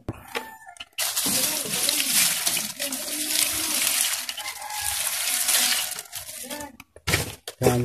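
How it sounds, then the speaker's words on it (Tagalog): Water poured onto a compost pile made for vermicasting, a steady splashing and gushing that lasts several seconds after a brief pause, with no talk over it. "didiligan natin ng tubig"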